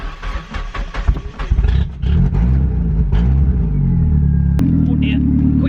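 Turbocharged car engine starting early in the morning: a few cranking turns and sputters, then it catches and settles into a loud, close rumbling idle with light revving, and a person talks briefly at the start.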